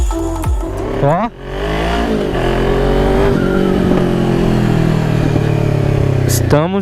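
Kawasaki Z400 motorcycle fitted with a Fuse Racing sport exhaust, revving loudly and close by in a steady, deep roar with sharp blips at the start and end, voices briefly audible over the engine.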